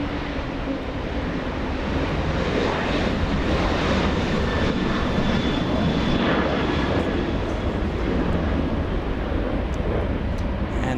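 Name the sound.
Boeing 777 taxiing at LAX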